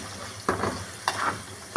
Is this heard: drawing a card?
no